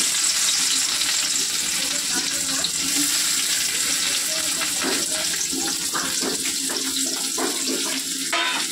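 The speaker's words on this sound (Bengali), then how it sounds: "এদিকে কড়াতে তেল রয়েছে, কুচিয়ে রেখেছি পেঁয়াজটা দিয়ে দেবো" Chopped onions fry in hot oil in a wok, a dense, continuous hiss that stays loud throughout, with faint clinks and movement breaking through near the end.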